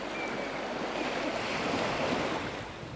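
Sea waves wash onto the sandy beach at Cleethorpes in a steady, broad surf roar with some wind, continuous and fairly loud throughout, with no voices.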